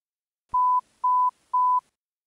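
A telephone line goes dead after a call is cut off, leaving three evenly spaced pure electronic beeps, close and clear, following a brief click, with nothing else heard.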